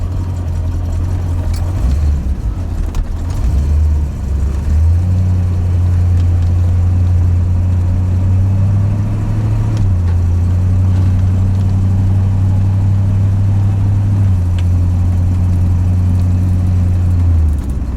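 An old Corvette, brought back to life, drives down the road with its passenger window up, a loud continuous low engine drone that rises and dips in pitch with throttle changes under faint road noise.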